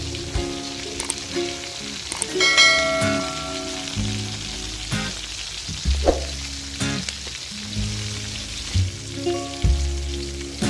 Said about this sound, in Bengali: এবার এই পাশটাও ভালো করে ভেজে নেব।